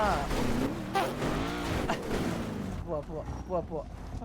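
A vehicle's engine revs hard in a few rising bursts, loud and close, with voices shouting over it before the roar drops away into chatter.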